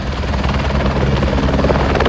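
Inside the cabin of a helicopter during a tourist ride at Araku Fest, a loud, steady rotor and engine drone fills the space with rapid rhythmic chopping and no pauses.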